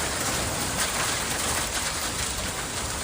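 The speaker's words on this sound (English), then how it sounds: "A massive Pacific storm is battering the West Coast from California to the Rockies with heavy rain" Heavy rain from a massive Pacific storm lashing the West Coast, a dense, steady hiss of downpour close by with no pauses, loud and unbroken throughout.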